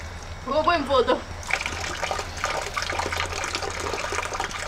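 Water from a spring trickles and splashes steadily in a continuous wash, with a person speaking briefly early on over the flow.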